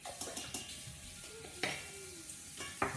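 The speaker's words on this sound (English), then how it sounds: "we're just going to take our measuring spoon and mix those dry ingredients together" A measuring spoon stirs dry cake ingredients (salt, cinnamon, baking soda) in a bowl, giving faint, scattered clicks and scrapes at an unsteady pace.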